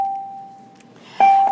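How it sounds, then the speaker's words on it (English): A single bell tone rings clear and steady, fades, then strikes again more loudly near the end, heard over a quiet room during a maths lesson. "Whoops, sorry about the bell."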